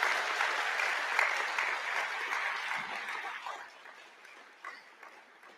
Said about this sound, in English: give a warm round of applause to your families, friends, and supporters